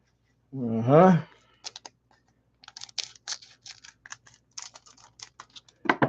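Scissors handled while opening baseball card packs: small dry clicks and snips in short, scattered bursts close by, after a brief voiced sound at the start.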